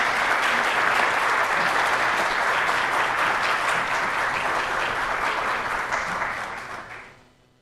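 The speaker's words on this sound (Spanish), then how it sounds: "Un fuerte aplauso, por favor," Loud sustained applause from an audience at a Honduran public forum, thick even clapping that fills the room and then fades out over the last second.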